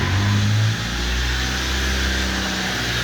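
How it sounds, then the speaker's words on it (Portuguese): A Fiat Palio engine with its alternator removed runs loud and close, holding a steady, rough revving drone that eases slightly after the first moment. "Eu dar essa acelerada porque tá sem o alternador"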